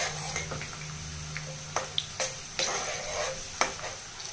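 Tempering spices sizzle steadily in hot oil over a low flame for a tomato pickle, with frequent clinks and scrapes of a spoon stirring the pan close by.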